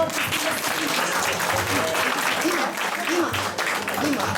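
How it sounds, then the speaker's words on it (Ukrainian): Audience in a church applauding a child at a St. Nicholas celebration: dense, steady clapping that fills the whole stretch at an even level, with voices mixed in underneath. "Нашому козачку оплески, зірочка наша"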